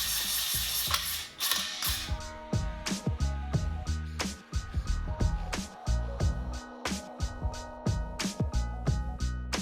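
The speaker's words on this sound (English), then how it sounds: "just gonna put our wrench on the hex head side like that" Wrench clicking as it snugs hex nuts on a Fitness Reality 810XLT home gym squat rack, dense rapid ratcheting clicks with light metal clatter, close and continuous.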